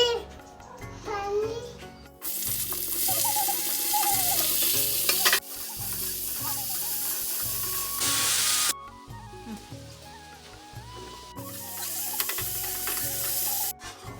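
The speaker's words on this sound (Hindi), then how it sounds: "अब मैं यहाँ पे मटर को भी इसी में फ्राई कर रही हूँ।" Peas frying in a pan, with bursts of hissing sizzle and repeated scraping stirs, over a mechanical clicking background.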